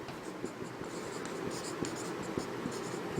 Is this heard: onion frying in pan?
no